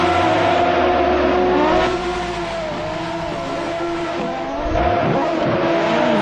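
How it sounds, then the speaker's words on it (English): Cars do burnouts at Dover Raceway in Jamaica: a loud, close engine drones and revs with shifting pitch as tires squeal and skid, easing briefly in the middle before swelling again. "thanks a lot for the burnouts there"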